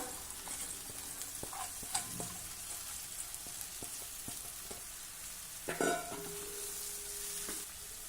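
Sprouted moth beans dropped into hot oil tempering sizzle softly with a steady frying hiss, broken by a few scrapes and clinks of stirring in the pan, faint and with no talk.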